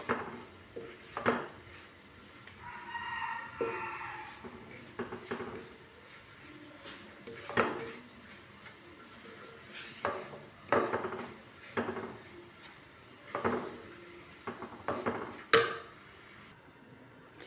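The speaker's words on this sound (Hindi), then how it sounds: "सूजी को हम लाइट सा फ्राई करेंगे" Semolina roasting in desi ghee in a pan for saffron sooji halwa, with repeated clinks and scrapes of a spoon against the metal pan at an uneven rhythm over a quiet background.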